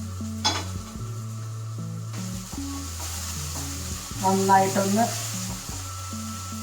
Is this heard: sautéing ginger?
yes